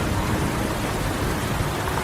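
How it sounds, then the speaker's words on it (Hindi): Heavy rain in an animated Hindi story, a dense, loud, steady hiss of downpour with no gaps, heard alone. "तभी तेज बारिश शुरू हो गई।"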